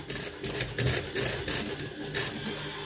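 A sewing machine backstitches fabric with a dense, continuous mechanical whir and rapid needle clatter, close and steady for a few seconds, with no talking.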